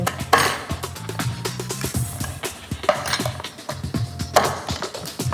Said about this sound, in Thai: แล้วก็ทุบกล้ามนิดหน่อยนะครับ